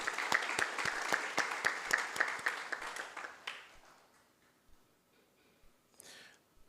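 An official audience gives a round of applause at a council chairman's remarks, steady rhythmic clapping from a crowd fading out after about three seconds into quiet room sounds.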